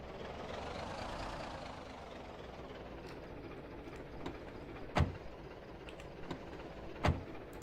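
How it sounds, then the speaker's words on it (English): A car engine idles in the zombie survival game Project Zomboid, giving a steady, low, even rumble with a few sharp clicks and knocks scattered over it. "Maybe I should turn the car off just to keep noise down."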